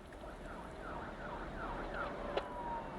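A distant emergency siren wails in repeating rising sweeps over steady low traffic rumble in London, faint and far off.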